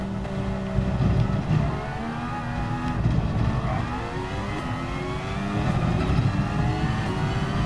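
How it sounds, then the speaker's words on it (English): In a racing simulator game, a race car powers straight out of a chicane, its engine revving loudly and climbing through rising pitches in one steady, close, sustained roar with no talk over it. "Just trying to accelerate straight out of the chicane so I can gain some downforce for the turn after."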